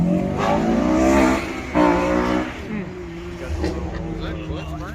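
A V6 car with no mufflers revs at a car meet, a loud, raspy engine roar that surges and falls in pulls, with people talking nearby over it.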